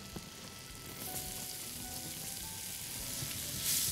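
Green onions fry in a pan with a soft, continuous sizzle and crackle, fairly quiet and steady throughout, growing slightly louder toward the end.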